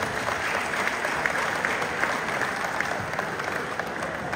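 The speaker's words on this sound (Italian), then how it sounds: "dobbiamo dargli un applauso perché ne siamo molto grati" Audience at a company's 50th anniversary celebration claps steadily and evenly throughout, a continuous, moderately loud wash of applause with no talking over it.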